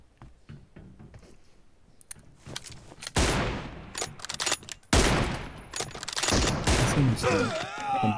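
Sniper rifle shots from an M24 in a shooting video game ring out amid bursts of gunfire, fairly loud sharp cracks clustered in the second half, under excited talk.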